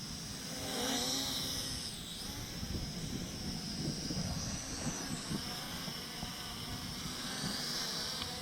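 A Fayee FY602 RC drone, a model that converts into a car, flies outdoors in strong wind, its steady whirring motor drone mixed with heavy low wind rumble and buffeting throughout, with no talking.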